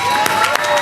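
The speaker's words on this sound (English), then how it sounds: "let's please give them a big round of applause" An audience gives a round of applause for the police officers of the 46th precinct in New York City. A brief, loud burst of crowd clapping with a faint murmur of voices.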